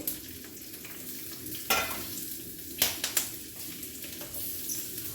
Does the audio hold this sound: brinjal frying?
yes